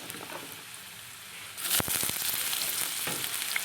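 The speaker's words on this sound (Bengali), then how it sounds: "এখন কড়াইতে সর্ষের তেল দিয়ে দিয়েছি।" Mustard oil in a wok, a soft hiss that swells into a louder crackling sizzle midway, with a couple of sharp metallic clinks from the pan.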